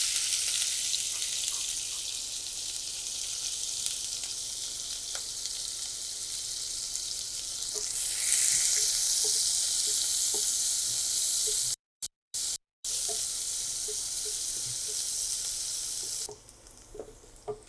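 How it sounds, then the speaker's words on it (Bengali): Two chopped onions frying in oil left from frying brinjal, a loud continuous close sizzle that flares around the middle, with a couple of brief cuts and occasional stirring, no talking. "এই তেলে আমি পেঁয়াজ দিয়ে দিচ্ছি। এখানে ২টা পেঁয়াজ কুচি আছে।"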